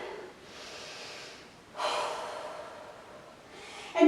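Heavy, audible breathing after a legs workout, several long airy exhales and inhales at close range, fairly quiet, with a louder breath near the end and no talking.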